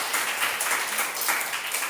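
A church congregation applauds during a Sunday worship service, a soft, steady wash of clapping with no voices over it.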